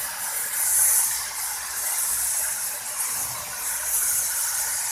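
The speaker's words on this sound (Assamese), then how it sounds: "খুব বেছি মই 10 মিনিটমান ভাজিম আৰু ঢাকনিও নামাৰোঁ" Chopped banana flower frying in an open pan gives a loud, steady sizzling hiss that runs unbroken from start to finish.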